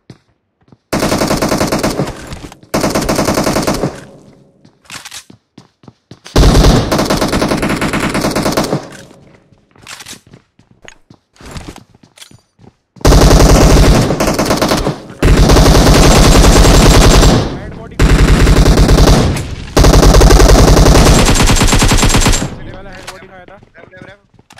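Loud, dense automatic gunfire from PUBG Mobile, coming in long sustained bursts with short gaps, and a voice occasionally heard between volleys.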